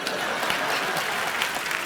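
A television comedy studio audience claps loudly and continuously in a thick, even wash of applause, with no voices standing out.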